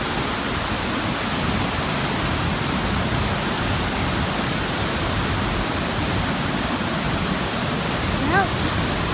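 River water rushing loudly beside a portage trail, a dense continuous roar that fills the whole stretch at close range, with a faint brief voice near the end.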